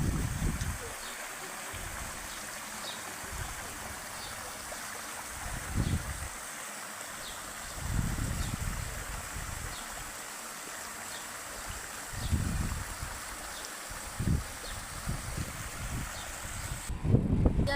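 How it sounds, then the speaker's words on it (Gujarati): River water flows past a riverbank beside an old temple, a steady wash of moving water broken by recurring low rumbles of wind buffeting the microphone. "પાણી પણ એવું મસ્ત ચાલુ છે."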